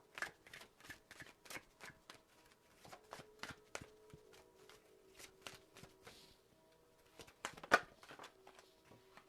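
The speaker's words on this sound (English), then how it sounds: "I'm going to use the romance angels for you, Jenny. I'm tired of those other cards" Romance angels oracle cards being shuffled, a quick run of soft riffling flicks and taps that repeats in bursts, close and quiet with faint pauses between.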